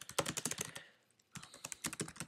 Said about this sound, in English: you're going to want to type in your own name